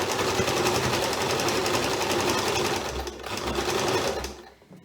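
A sewing machine runs a straight stitch along a gathered skirt, a steady close whirring drone that holds for several seconds and then slows and trails off at the end.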